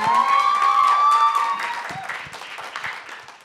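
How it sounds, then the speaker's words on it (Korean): Audience applauding after a student's speech at a Korean radio scholarship quiz show, a burst of clapping that fades out over a few seconds, with a voice briefly heard at the start. "자, 큰 박수 부탁드립니다"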